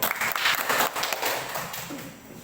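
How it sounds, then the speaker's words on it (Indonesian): Classroom students clap together in a short burst of applause that starts loud and fades over a couple of seconds, with room noise behind it. "Oke, tepuk tangan dulu."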